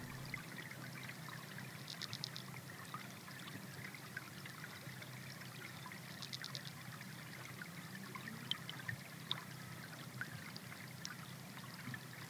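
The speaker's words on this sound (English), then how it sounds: "You're listening to the river underwater here at Yarramundi." River water in the Dyarubbin at Yarramundi, recorded underwater: a soft, continuous rushing flow with faint ticks and bubbly clicks, low in level and steady throughout, without any voices.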